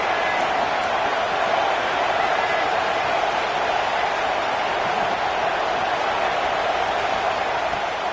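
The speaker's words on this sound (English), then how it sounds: "This crowd bringing the energy and noise early." A football stadium crowd roars in a steady, dense wall of noise throughout, sustained and unbroken with no distinct individual voices standing out.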